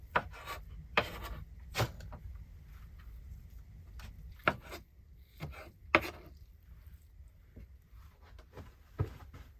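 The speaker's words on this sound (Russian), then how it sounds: "И теперь можно резать грибы." Knife chopping mushrooms on a board, with irregular distinct knocks and light rubbing cuts spaced out over several seconds at close range, no talking.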